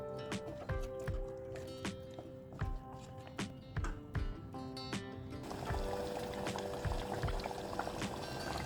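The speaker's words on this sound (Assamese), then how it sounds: "এতিয়া মই অকণমান পানী দিছোঁ।" Water poured into a pot of goat mutton curry on the stove, a steady liquid rush and bubbling that swells partway through amid clinks of cooking, close and moderately loud with no talking.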